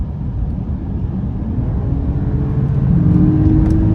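A 2023 Mercedes GLS 450 three-row SUV with a turbo engine downshifts and accelerates on the road, a steady engine hum and rising drone heard from inside the cabin, with no talk.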